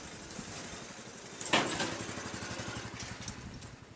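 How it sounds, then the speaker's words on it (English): A mail delivery motorbike putters past close by in a narrow alley in Osaka, Japan, a sharp rise as it nears, then a rhythmic chugging that fades as it moves away. "The post office people deliver their mail and stuff by motorbike."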